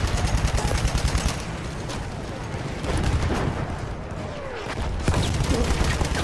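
Dense, continuous gunfire and explosive blasts from an online shooter video game roar without a break, loud and sustained, with faint voices mixed underneath.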